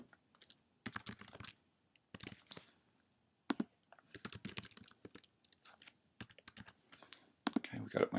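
Someone types an email address and password on a computer keyboard, quick close clusters of key clicks separated by short gaps, with a brief soft voice near the end.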